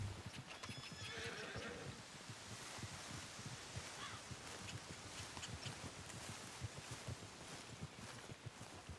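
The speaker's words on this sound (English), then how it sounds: "Oh, I've got to feed this horse." A horse in the video game Red Dead Redemption 2 whinnies near the start while steady hoof clip-clops continue throughout, faint and fairly close, with light rustling in the background.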